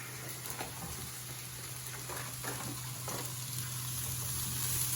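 Minced beef browns on a fairly high heat in a pan, giving a steady sizzling hiss over a constant low hum, with a few scraping touches and no voices.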